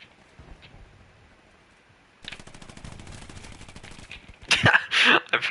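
Gunfire in the World War II shooter Hell Let Loose, a rapid automatic burst rattling for a couple of seconds, followed by louder sharp shots close up, with faint speech before.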